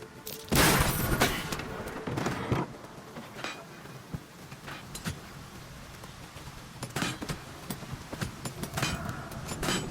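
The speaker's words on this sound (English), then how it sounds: "Stop shooting!" Scattered gunshots crack out at varying distances, a loud burst near the start followed by sporadic single reports and a few clustered shots over a rumbling outdoor background.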